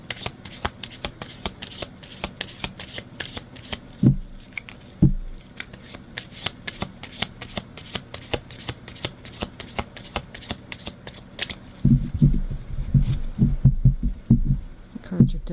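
Tarot cards are shuffled close up in a rapid, steady run of crisp riffling flicks, with a few heavier taps and a busier flurry of card handling near the end. A voice is faintly present in places.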